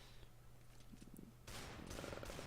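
Gunfire in the video game CS:GO, rapid bursts of shots heard faintly at first and then louder and denser, a steady game background hum underneath.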